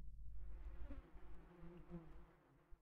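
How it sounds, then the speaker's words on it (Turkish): Flies buzzing in the video game Battle Brothers, a steady low insect drone that wavers slightly in pitch and holds throughout, faint and alone. "sinek seslerini duyuyor musunuz?"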